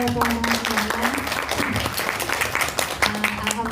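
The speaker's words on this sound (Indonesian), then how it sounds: "Tepuk tangan dulu teman-teman." Applause from an audience at an Indonesian talk on a woman's mental and spiritual readiness for marriage, a dense wash of clapping that runs throughout with voices mixed in.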